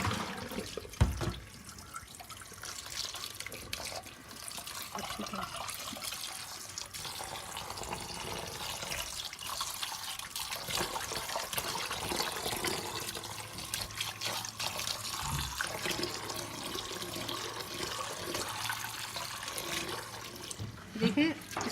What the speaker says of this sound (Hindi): मैं इसे अच्छी तरह रिंस कर लूँगी ताकि इसमें से जो सिरके वाला पानी अच्छी तरह निकल जाए।